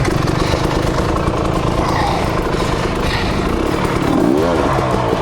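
A brand-new KTM 300 XC-W two-stroke dirt bike with one hour on it runs close by, a buzzy rattling engine holding a steady idle with a brief rev toward the end.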